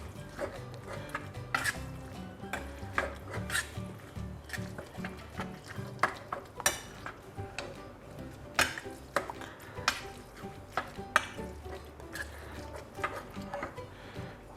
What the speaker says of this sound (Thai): ผสมคลุกเคล้าให้เข้ากันนะครับ